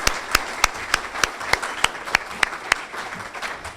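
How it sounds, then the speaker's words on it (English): A small audience applauds after a talk on Manatee County history: sharp, evenly spaced claps stand out over a soft bed of scattered clapping, then fade toward the end. "Let's give her a round of applause."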